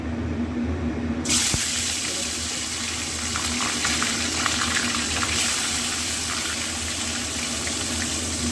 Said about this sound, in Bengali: এবার দুটো দুটো করে মাছ ভাজবো, বেশি একবারে দেবো না।